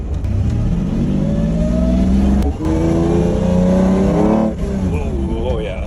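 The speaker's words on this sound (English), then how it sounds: "There we have this beautiful V12. Just listen to that purr." A Lamborghini Diablo's 5.7-liter V12 revs loud and close, its engine note climbing in pitch, dipping briefly, then climbing again in rising sweeps that dominate throughout.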